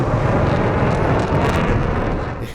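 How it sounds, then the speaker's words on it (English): F-16 Viper fighter jet in DCS World flying low, a loud, continuous roaring rumble that stays steady and full throughout before easing slightly at the end. "the Viper is one of the loudest, real-life loudest jets that I ever heard"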